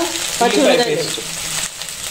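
Ginger and a spice paste sizzle in a hot pan during a brief burst of frying, with stirring adding scraping texture to the crackle.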